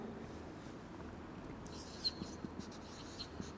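Pen writing on a board or paper during a statistics lecture on coin-toss probability, heard as faint scratchy strokes with a few small taps over a quiet room hiss.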